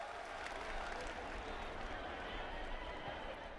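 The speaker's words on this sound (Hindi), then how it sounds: "दोनों हाथ ऊपर उठा के जोरदार तालियों के साथ प्रधानमंत्री जी को हम शुभकामनाएं दें" Sustained applause from a large crowd at a women's self-help groups conference in Karahal, honouring the Prime Minister, steady, dense clapping throughout.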